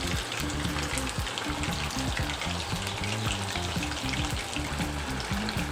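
Chicken leg pieces fry in oil over a medium flame, making a dense, steady, loud crackling sizzle up close, with occasional stirring sounds and no talk.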